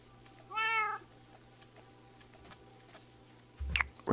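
A cat meows once in the Minecraft video game, a short rising-and-falling call standing alone against quiet background, followed by faint clicks and a couple of brief louder game sounds near the end.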